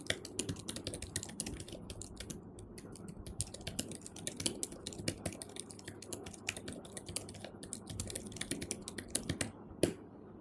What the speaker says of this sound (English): now let me try to type something